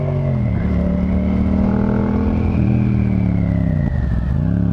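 Yamaha FZ-07 with its crossplane 700 twin and a Yoshimura exhaust revving close by, a loud, unbroken engine drone that holds steady, swells, then dips near the end.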